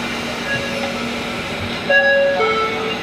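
The Kalka Shatabdi express train pulls away toward Kurukshetra with a steady rolling rumble inside the carriage, and brief high tonal whines and squeals rise near the end.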